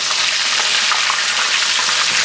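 Venison steak sizzling hard in a hot pan, a loud, steady, dense crackle with scattered spitting pops and no talk, for a country-fried venison dish.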